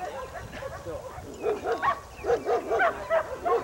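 Dogs give a run of rapid, yelping barks that build into a steady rhythmic string, close and fairly loud, with people talking in the background.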